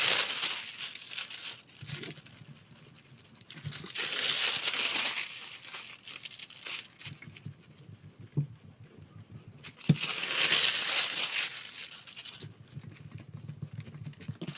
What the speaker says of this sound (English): So I'm just moving the foil around.